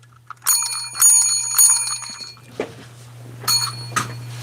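A small bicycle-style bell rung by a show host dings in several quick bursts, bright metallic rings in two groups with a steady low hum underneath and no talking.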